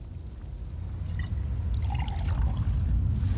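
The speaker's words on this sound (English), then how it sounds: "And now, anoint the altar with the sacred water." Sacred water pours onto an ancient Ayleid altar in The Elder Scrolls Online, a soft trickling stream building over a low ambient hum, close and steady for a few seconds with no voices.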